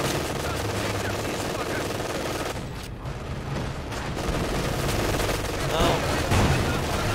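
Machine gun fire in the World War II strategy game Company of Heroes, dense continuous bursts of rattling gunfire with distant booms, loud throughout with a brief lull, and a voice exclaiming once over it.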